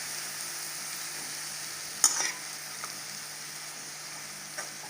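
Chicken samosa filling masala with green coriander and green chilli sizzles softly in a pan, a steady faint fry with a brief louder scrape of mixing partway through.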